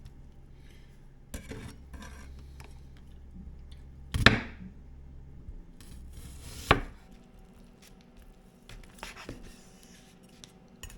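A POPSUN Japanese 8-inch hand-forged gyuto chef knife slicing food on a board, a few distinct crisp cuts spaced apart over quiet background.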